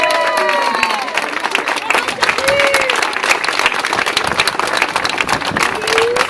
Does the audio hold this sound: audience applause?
yes